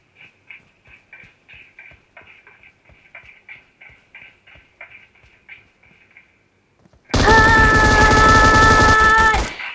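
Gunfire in the battle royale game PUBG: a long run of evenly spaced, fairly faint rapid shots, like distant automatic fire, then a sudden loud dense burst of close shooting and explosive noise near the end.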